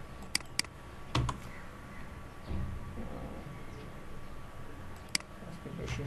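Computer keyboard keys clicking during drafting in AutoCAD 2014, a few sharp separate taps with longer gaps, including Enter presses, close and fairly quiet over a low steady background hum.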